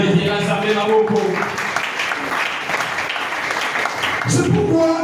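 A church congregation claps and applauds steadily and loudly throughout, a dense sustained wash of hands with voices mixed in underneath.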